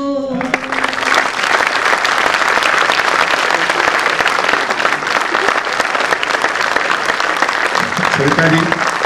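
Audience applause for a poet at a 2018 Hindi poetry recital, loud sustained clapping from a large crowd lasting several seconds, with a voice briefly heard at the start and again near the end.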